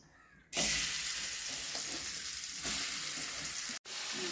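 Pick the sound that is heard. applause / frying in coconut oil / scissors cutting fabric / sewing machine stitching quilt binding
frying in coconut oil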